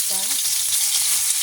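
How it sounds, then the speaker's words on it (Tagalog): Potatoes frying in hot oil for beef caldereta, a loud, steady close sizzle with a brief tonal clink near the start and no speech. "Ayan guys, lagay na natin yung patatas. Iprituin ko muna to bago ko siya igigisa."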